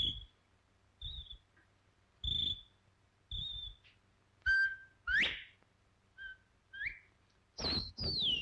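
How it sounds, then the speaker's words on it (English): Short whistles blown into an Oriental spirit bottle, about ten brief high tones in an uneven sequence, some sliding upward, each standing alone against near silence. "If you take this bottle and you whistle in it,"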